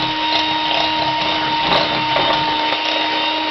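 Electric mixer whisking egg mix for a fat-free lemon drizzle sponge, a steady loud motor whine with a constant tonal hum and faint rattling, running alone without talk.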